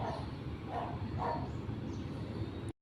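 A dog barks a few times at moderate distance, three soft yaps spaced about half a second apart over a steady outdoor background hiss before the sound cuts off abruptly.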